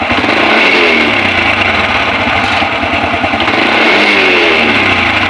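A motorcycle engine revs loud and close as the throttle is worked, its pitch rising and falling in several pulls over a steady rumble.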